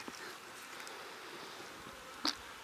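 Honeybees buzzing around an open hive during nuc installation, a steady faint hum throughout with a brief louder buzz near the end as a bee passes close.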